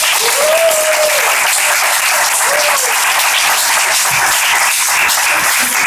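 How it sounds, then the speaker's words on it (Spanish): Loud, dense applause from a lecture audience at a talk on Dominican literature, continuous clapping filling the room, with a brief voice exclamation rising over it early on. "Un aplauso que se sienta."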